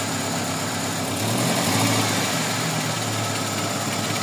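A Toyota Corolla GLi 4A-FE engine runs steadily with a low rumbling idle, swelling slightly in the middle as if briefly revved, then settling back.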